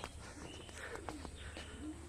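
Soft pigeon cooing at a village pigeon farm drifts through a steady background hum, a few low murmuring calls rising and falling over the two seconds.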